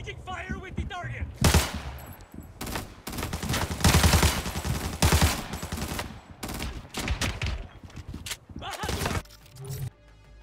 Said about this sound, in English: Exchanging fire with the target.